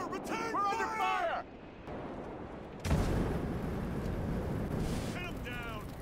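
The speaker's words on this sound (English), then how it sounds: "Return fire! Return fire! We're under fire!" Battle in the Valour Workshop game at Iwo Jima: a steady rumble of gunfire and distant blasts roars on, with shouting voices breaking in at the start and end.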